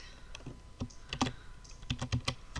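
Rapid typing on a computer keyboard, with clustered key clicks in uneven bursts, close and fairly loud, no voices.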